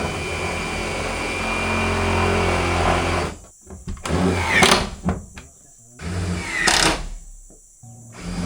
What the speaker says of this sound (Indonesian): Pesawat lewat.